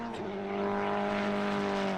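Onboard race car engine drones loudly at steady high revs during a VdeV endurance race at Motorland Aragon, with a sustained harmonic whine and road rush, no talk.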